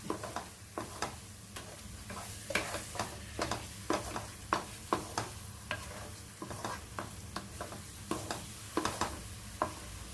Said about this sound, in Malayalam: നമുക്ക് ഏതാണ്ട് ഒരു 2 മിനിറ്റും കൂടെ ഒന്ന് ഇളക്കി നോക്കാം